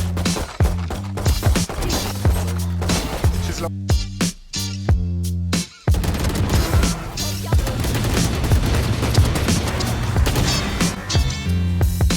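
Rapid gunfire in Valorant plays through a Killjoy attack-side ranked match: dense, repeated shots and bursts over a thumping music bed, with a short gap of spaced rhythmic hits midway before the firing resumes loud and continuous.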